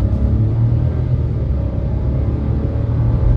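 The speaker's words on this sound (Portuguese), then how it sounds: "Quando você pisa fundo, ele já sobe o giro, ó." Steady low engine rumble inside a 2023 Chevrolet Montana Premier turbo pickup under hard acceleration, loud and continuous with road noise and no talking.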